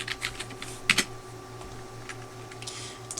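Clicky keystrokes on a computer keyboard come in irregular bursts with short pauses, close and fairly quiet, over a low steady hum, with no voices.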